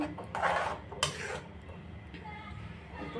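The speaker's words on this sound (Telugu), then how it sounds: "ఆయిల్లో ఫ్రై చేసుకున్న పన్నీర్ని వేసుకున్నాక ఒకసారి అంతా కలిసేలా కలుపుకోవాలి." A utensil stirs fried paneer through a masala curry in a pan, giving soft scraping and clinking against the metal with one sharper knock near the start, over a steady low background hum.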